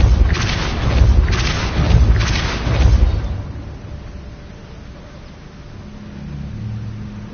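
Depulso, a repelling spell in the wizarding game Hogwarts Legacy, cast in a run of three loud, deep booming thumps about a second apart, followed by a quieter low rumble.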